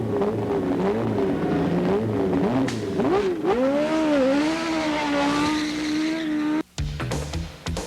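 Penske race car number 27 leaving a pit stop: a loud engine revving and climbing through the gears, its pitch rising and falling, then a brief cutoff and a burst of sharp sounds.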